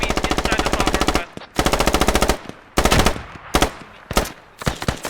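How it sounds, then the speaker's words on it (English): Humvee-mounted machine gun firing in the Squad Ops video game, loud rapid automatic bursts in several long and short volleys with brief pauses between, close and without voices. "That's the Humvee, providing some good fire as well."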